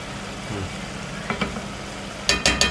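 Mutton karahi with chili flakes, dried coriander and black pepper frying in a pan, Lahori style: a low steady sizzle with scattered clatters and a burst of sharper scraping stirs near the end.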